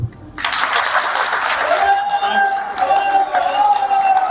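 A crowd at a political gathering in Faridkot claps in approval, with a loud, dense burst of applause starting abruptly and continuing steadily, joined by faint cheering.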